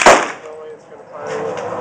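A single sharp, loud rifle shot cracks at an outdoor shooting range, then decays into a fading echo and quiet background.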